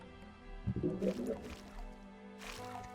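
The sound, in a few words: character landing in water, from video game Gothic 2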